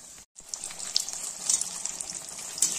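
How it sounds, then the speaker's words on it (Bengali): Coated Kashmiri chili chops frying in plenty of hot oil in a wok, a steady close hiss and bubbling sizzle after a brief silent gap at the start. "কড়াইতে একটু তেল বেশি করে গরম করে নিয়েছি, তার মধ্যে এই কোট করা চপটাকে ছেড়ে দেবে ভাজবার জন্য"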